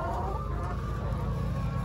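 A large flock of rescue hens clucks and murmurs continuously in their pen, a dense, steady chorus heard close up with no pauses.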